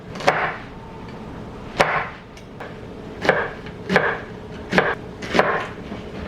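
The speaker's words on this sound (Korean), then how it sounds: "양파도 썰어야 같이 꽂지." Knife chopping onion on a cutting board in a home kitchen, six or so sharp, separate thuds in an irregular rhythm, close and fairly loud over quiet room noise.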